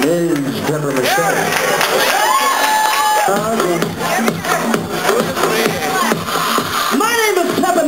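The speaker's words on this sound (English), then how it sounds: "Ladies and gentlemen, with a big round of applause" Audience claps and cheers for a house diva singer being introduced at a pre-Oscar party, with crowd noise and shuffling mixed under a speaking voice throughout.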